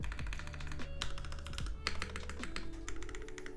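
Typing on the stabilized keys of a Merisi Sessantacinque 65% mechanical keyboard gives rapid, close clacks and deeper thocky presses in a quick, uneven rhythm over a low background hum, with no talking.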